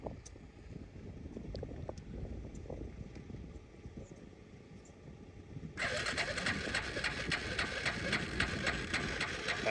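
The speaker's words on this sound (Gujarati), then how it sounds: "બાઇક તો ચાલુ થઈ ગઈ પણ પગે થોડુંક લાગી ગયું ચાલુ કરવામાં" A rain-soaked farm motorbike is kicked into life: scuffing and faint bird calls come first, then the engine catches and runs at a steady, loud idle for the last few seconds.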